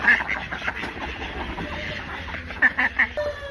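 Several ducks quack noisily in short bursts near the start and again toward the end, over steady background noise.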